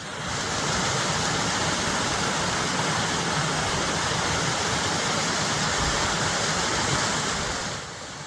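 Steady, dense roar of falling water, loud and continuous throughout, with no voices.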